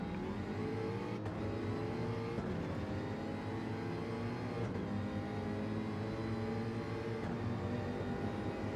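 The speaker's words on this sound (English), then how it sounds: "Now full throttle coming through Radio, Camel straight, Breezy defending" Gran Turismo GT3 race cars at full throttle in a 24-hour Spa event, including a Jaguar. Engines drone steadily at high revs with rising and falling pitch through gear changes and brief shift cuts, continuous and close, without talk.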